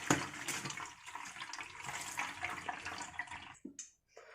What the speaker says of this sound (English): Now we are going to add some normal water because it will make the pasta non-sticky with one another.